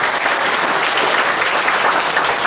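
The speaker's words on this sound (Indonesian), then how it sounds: "Ya, tepuk tangan Bu Ali." An indoor audience at a Buddhist vihara talk claps together in a dense, steady round of applause that fills the whole moment, with no voices over it.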